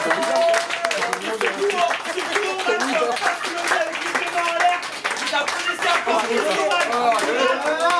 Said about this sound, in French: Je demande que vous les applaudissez, que vous encouragez vraiment.